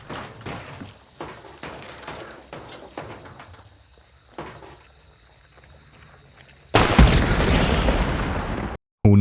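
A barrel blows up in the video game Hunt: Showdown, a sudden loud, dense blast that erupts after a stretch of scattered gunfire and ambient clatter, holds its roar for about two seconds, cuts out briefly, then resumes.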